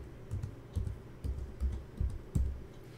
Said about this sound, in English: I can also type Snowdrift,